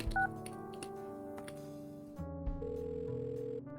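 Telephone dialing in the adventure game Kathy Rain 2, a sequence of short keypad tones followed by a steady, sustained line tone, clear and alone with no talking.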